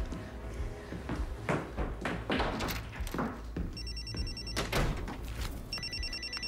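A house telephone rings twice with an electronic trill, standing out over a busy, muffled room with thumps, bumps and faint voices underneath.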